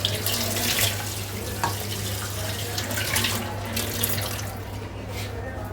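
Tap water runs steadily into a kitchen sink to rinse rice two or three times for a chicken pulao, a continuous close splashing stream with no talk over it.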